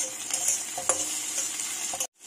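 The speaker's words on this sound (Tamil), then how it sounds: "தக்காளி சேர்த்துட்டு கொஞ்ச நேரம் இதையும் வதக்கி விட்டுக்கோங்க." Onion and tomato sautéing in a pan for a bitter gourd poriyal, a steady close sizzle with a few spoon stirs and scrapes, then a brief drop to near silence at the end.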